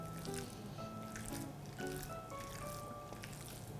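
Wet squishing and dripping as chicken marinated with light soy sauce and ground pepper is mixed by hand, soft moist squelches over a faint background with tonal hum.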